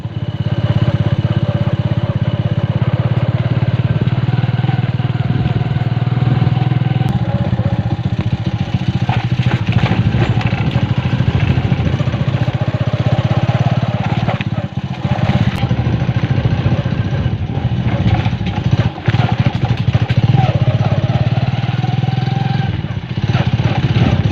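Motorcycles being ridden give a loud, constant engine drone close by with rattling clatter throughout, steady with no pauses; a voice is faintly heard under the noise.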